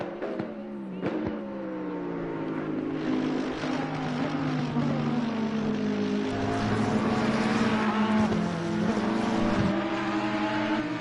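Ferrari race car tearing around Monza in a racing video game, its engine note rising and shifting steadily throughout, loud and continuous with other cars' engine tones layered beneath.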